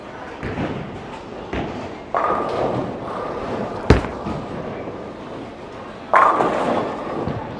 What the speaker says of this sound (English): let's get this one up the lane again, see what happens